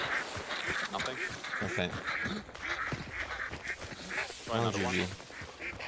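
Ducks burst into loud repeated quacking in Hunt: Showdown, a dense flurry of calls across the whole stretch with a sharper cluster near the end, heard under someone talking.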